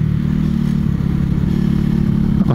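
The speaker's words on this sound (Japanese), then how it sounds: "エンジンからカランカランカランっていう、ほら音取れてるかな" A Mutt Motorcycles DRK motorcycle engine runs with a loud, steady low rumble and a metallic clattering rattle from the engine, close up and continuous while riding.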